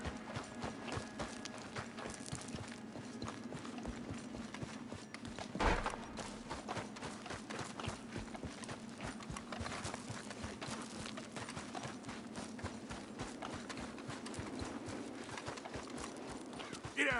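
A horse's hooves clip-clop steadily in the Red Dead Redemption 2 video game, a continuous brisk gait heard at moderate distance over outdoor ambience, with one brief louder thump partway through.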